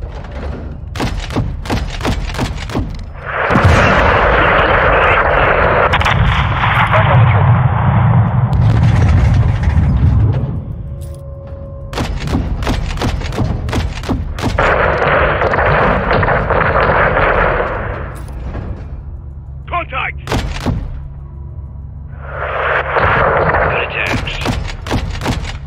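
Heavy gunfire and artillery from a close air support mission in Call of Duty Modern Warfare 2, with cartel fighters at a gas station: loud, dense volleys of sharp shots broken by long, rumbling sustained barrages.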